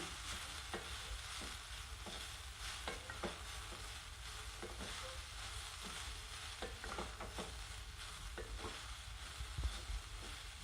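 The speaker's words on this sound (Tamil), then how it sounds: "தேவையான அளவு உப்பு போட்டு நல்லா சேர்ற வரைக்கும் கிளறி விடுங்க." A spoon stirs salt through onion, mustard seeds and urad dal in a pan of hot oil, with a steady close sizzle and scattered scraping clicks from the stirring.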